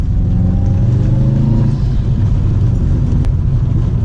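A loud, rumbling engine of a stock 2012 Subaru WRX STI rally car runs steadily with a turbo whine and intake growl, revving slightly, close by with no talking.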